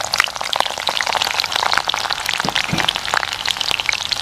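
Steady dense crackle of garlic cloves frying in hot sesame oil for a fish pickle, a continuous close sizzle with scattered pops throughout.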